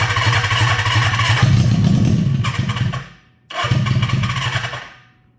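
Suzuki GS750 motorcycle engine fitted in a golf cart firing up, two loud rough bursts of running with a brief cut-out between them, then dying away, close and alone.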